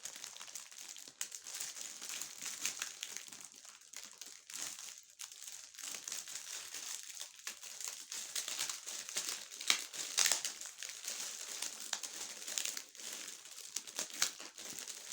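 Tape-wrapped plastic packaging is pulled open by hand, giving a continuous run of crinkling and crackling with small tearing bursts, close and fairly loud, with no voices.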